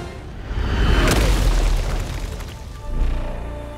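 An artillery gun fires in the video game Helldivers 2, a heavy, booming blast with a rumbling tail, followed by a second swell of low rumble.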